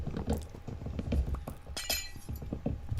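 Glass panes shatter in Minecraft with one bright crashing burst midway, set among a run of dull thumps and clicks from blocks being handled.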